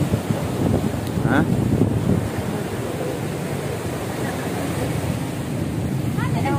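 Steady wind rushes and buffets outdoors at close range, with a continuous broadband roar and low rumble throughout, and a few faint voices in the background.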